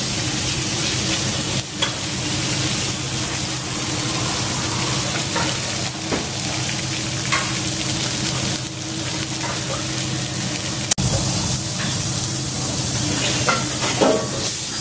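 Meat searing on a plancha with a thin trail of olive oil, a loud, continuous sizzle with occasional spatters, scrapes and a sharp tap, close and steady without speech.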